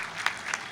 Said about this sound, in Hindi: एक बार जोरदार तालियों से आप इस्तकबाल करें